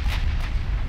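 Naval gun salvo from ship autoloaders in Ultimate Admiral Dreadnoughts, heard as a continuous deep rumbling boom with wind-like noise over one second, loud and sustained without distinct separate shots.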